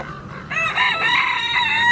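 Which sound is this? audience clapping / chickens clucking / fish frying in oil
chickens clucking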